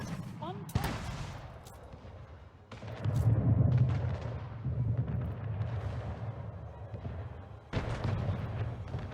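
Ship mortar fire in Anno 1800, a series of heavy booming blasts and rumbling artillery impacts over a continuous battle din, with someone talking over it.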